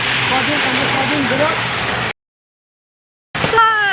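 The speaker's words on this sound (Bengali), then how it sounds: "কি হারে দেখো, মুষলধারে বৃষ্টি হচ্ছে" Heavy monsoon rain pours down in a dense, steady hiss for about two seconds, then cuts to silence. When the sound returns, a voice is speaking over the rain.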